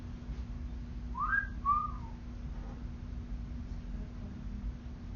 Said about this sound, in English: But what if I whistle at her?